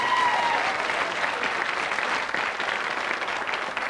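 A home crowd in a Norwich television studio breaks into sustained applause and cheering during a 1992 word-jumble game show, a dense, loud wash of clapping that holds steady throughout.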